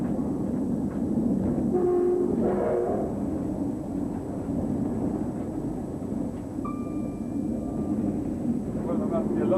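The high-speed Yorkshire Pullman train running at around 125 mph, a steady rumbling roar with a brief horn blast, heard from on board beneath talk.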